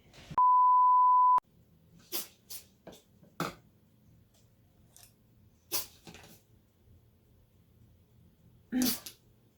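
A steady electronic beep sounds first, followed by scattered small noises, then one sharp, loud sneeze near the end.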